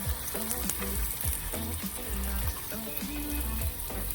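Fish fillet frying skin-side down in a pan, a dense continuous sizzle and crackle heard up close for a few seconds, with music running underneath.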